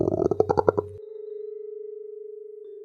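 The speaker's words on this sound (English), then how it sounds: "My stomach growled." A cartoonish stomach growl sound effect: a quick burst of low, wobbling rumbles that settles into a long, smooth humming tone. No one speaks.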